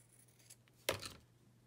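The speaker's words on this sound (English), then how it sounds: "So I'm gonna have to cut this though, because it's too small to try to tear it." Scissors snip once through paper while making collage journaling cards, a single close, crisp cut with a short rustling tail, set against a low steady hum.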